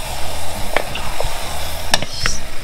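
Seafood gumbo is stirred in a pot, with a continuous bubbling sizzle and scattered spoon scrapes and clinks against the pot near at hand, no voices.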